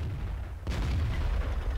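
A heavy tank cannon shot lands as a hit in the online game World of Tanks, a single sudden boom that rises over a steady rumbling battle background and then rolls on.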